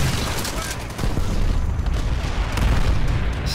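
Grenades explode in Call of Duty: World at War, a dense continuous roar of heavy booms and battlefield rumble, loud and close, with a stronger surge about a second in.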